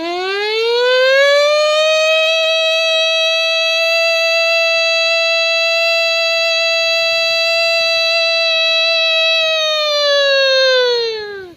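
A voice imitates a civil defense siren, one long steady wail that rises at the start, holds loud and clear for about ten seconds, then falls away.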